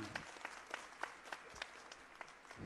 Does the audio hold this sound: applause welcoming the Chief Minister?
yes